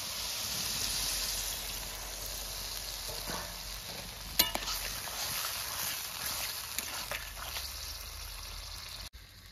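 Potato and ridge gourd fry in a pan while water is added, producing a constant moderate sizzle and bubbling with occasional stirring scrapes and a couple of sharp clicks near the end.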